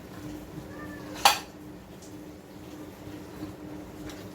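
A single sharp clatter of a utensil against a pan or plate as stir-fried fish is scooped onto a dish in a home kitchen, with quiet background hum before and after.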